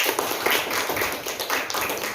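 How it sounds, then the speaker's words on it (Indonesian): Schoolchildren clap for their classmates in a classroom lesson, a brisk uneven patter of many small hands at close range, continuous and fairly loud. "Tepuk tangan dulu buat teman-teman itu."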